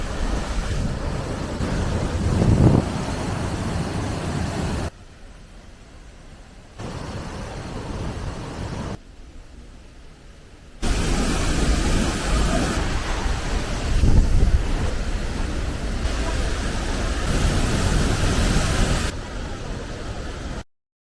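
Athirappilly waterfall rushes in a steady broad roar, loud and continuous, with the level jumping between quieter and louder stretches.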